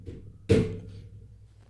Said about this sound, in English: It's a nice solid thud. This is a very loud desk.